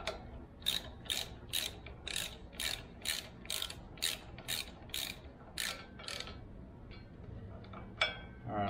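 A hand ratchet snugging bolts on a GM Turbo 400/350 transmission flex plate adapter for an LS engine, a close run of about a dozen sharp rhythmic clicking strokes, then a pause and a brief final burst.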